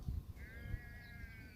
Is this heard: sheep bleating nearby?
yes